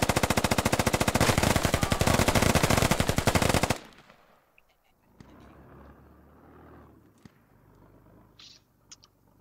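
A .50 cal machine gun fires in the Squad military shooter game, a loud, rapid sustained burst lasting several seconds before cutting off to quieter battlefield ambience with a few distant shots.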